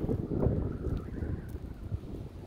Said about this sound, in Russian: наверное, звук не очень, потому как настоящий ураган